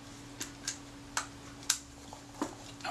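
Sharp, dry clicks from the shutter mechanism of an early Kodak Retina IIIS film camera with a faulty shutter, as it is worked by hand. About seven separate ticks come at uneven intervals, close and fairly quiet.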